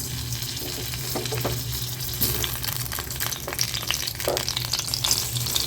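Chopped tomato frying in hot oil with onion, mustard seeds and urad dal for a black spicy chutney, a steady close sizzle with stirring scrapes and brief splashy bursts, no voices.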